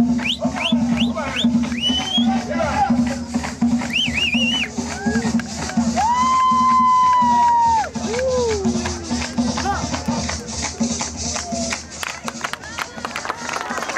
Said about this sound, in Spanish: ¡Que se escuche ese fuerte aplauso!